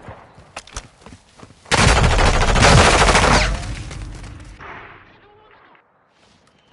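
An assault rifle fires in Call of Duty: Modern Warfare II, a loud, close, rapid burst lasting almost two seconds. It follows quiet game noises and fades into a softer echo tail.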